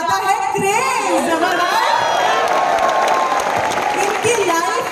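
An audience applauds at a stage event, a dense continuous wash of clapping with some cheering and shouts, while a voice speaks over it through a sound system.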